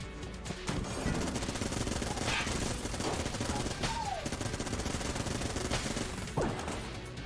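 A Vulcan cannon fires a dense, continuous stream of gunfire in the video game Enter the Gungeon, steady and loud throughout, with a few chirps and impact effects layered on top.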